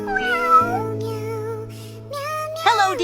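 A kitten meows loudly and close, giving a few drawn-out, rising and falling cries one after another with short pauses between.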